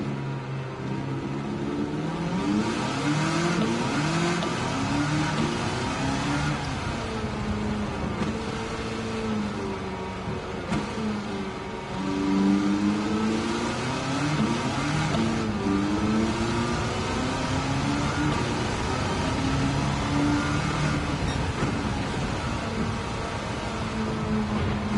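An engine-swapped Nissan S14 Silvia revs in Gran Turismo 7. The engine note rises and falls steadily for about twenty-five seconds, loud and continuous, with no talking.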